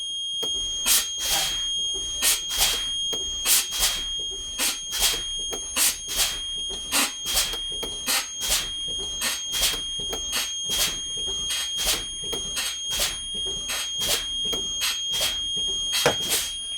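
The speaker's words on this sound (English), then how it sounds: "There's my alarm before 55 psi." A bus's low air pressure warning alarm, sounding before 55 psi, beeps loudly, high-pitched, rapidly and repeatedly in a steady rhythm, with a constant tonal hum beneath it.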